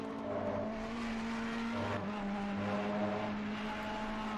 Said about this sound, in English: The Ferrari engine absolutely wailing beautifully up that hill